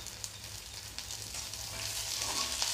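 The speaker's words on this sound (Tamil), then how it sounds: "நல்லா வதங்கினதுக்கப்புறம் பூண்டு ஒரு 5 to 6 பல் போட்டுக்கோங்க." Garlic cloves, five or six, sautéing in hot oil with onions for a pomfret fish fry, a steady close crackling sizzle that builds slightly and continues alone.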